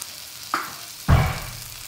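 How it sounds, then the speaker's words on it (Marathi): Spices sautéing with peas, soybeans and potato in a curry pan: a brief stir, then a sudden loud burst of sizzling that slowly fades, heard close with no talk. "आता हे मसाले चांगले परतून घ्यायचे."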